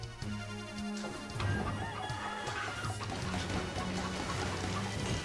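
Chickens in the video game Dead Cells cluck and squawk in a steady stream of calls over game music and effects, with a crowing note mixed in, loud and close throughout.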